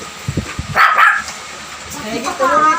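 A voice mimics a dog barking with a couple of yapping calls, mixed with other children's chatter and playful noise nearby.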